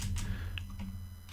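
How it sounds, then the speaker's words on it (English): Computer keyboard typing in a quiet room, a short burst of light key clicks over a steady low hum, with no talking. "we'll just rename this by clicking on it and then typing in product"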